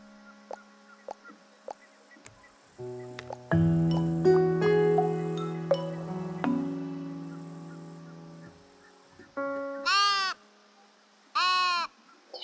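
In the cozy building game Tiny Glade, a sheep gives two short, wavering bleats toward the end, after a stretch of soft, sustained game music and faint chimes.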